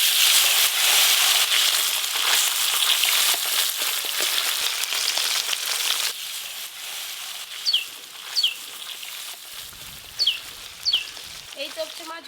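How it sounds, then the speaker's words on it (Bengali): Topse fish fry in hot oil with a dense, steady sizzle close by, easing slightly midway while a few sharp bird chirps sound in the background toward the end. "তপসে মাছগুলো খুব ভালো করে ভাজা হয়ে গেছে"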